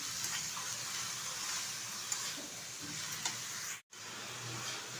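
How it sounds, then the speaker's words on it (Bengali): Shukto with ginger and sugar being stirred in a pan, a steady soft bubbling and scraping texture with faint sizzle throughout, briefly cut off near the end, no voices. "আদা আর চিনিটা দেওয়ার পর কিন্তু বেশ কিছুক্ষণ আমি নেড়ে চেড়ে নিয়েছি।"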